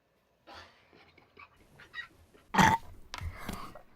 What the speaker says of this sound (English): Can you like burp your name?